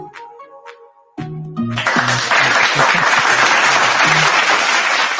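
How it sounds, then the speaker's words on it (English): Dense, loud applause from an awards-show audience swells in after a brief quiet musical passage and holds steady to the end, with no talk over it. "Palakpak!"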